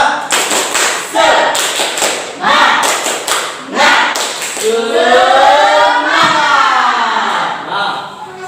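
A classroom of fourth-grade children repeating the tepuk semangat chant: rhythmic group claps strike in quick patterns, then give way to a loud, sustained chorus of shouting young voices.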